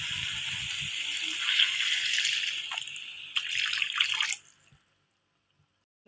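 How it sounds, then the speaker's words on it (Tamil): Water pours into a cooking pot in a home kitchen for about four seconds, a close, bright splashing stream that swells and then stops abruptly, leaving near silence. "நான் கொஞ்சம் தண்ணி ஆட் பண்ணுறேன்."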